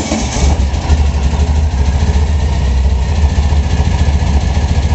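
A replica 1957 Porsche Speedster 356 engine runs at a steady idle, a loud, close, throbbing low rumble that holds even with no voices over it.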